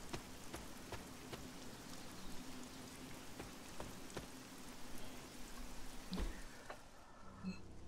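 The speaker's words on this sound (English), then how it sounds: "Oh, I love running in the rain." Steady rain falls in the video game Marvel's Midnight Suns, a dense even patter with scattered louder drops, fairly quiet and heard alone without talk.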